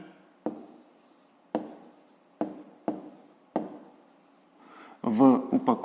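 A pen writes an answer to a fifth-grade maths exercise on paper, with five or six distinct scratchy strokes spaced about a second apart, close up, and a voice speaking briefly at the end.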